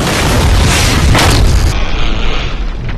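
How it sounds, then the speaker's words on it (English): A loud, close explosion in the video game The Darkness 2, a heavy booming blast with a rumbling low tail that swells and then thins out as it decays. "I expect an explosion."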